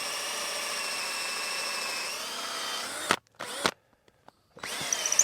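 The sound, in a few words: cordless drill with a metal bit drilling wood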